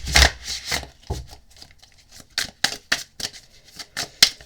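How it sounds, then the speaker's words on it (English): A deck of tarot cards is shuffled before a reading, giving a series of crisp riffling and tapping bursts, irregular and close, with no talk. "Let's give these a good shuffle and then we'll go straight into the reading."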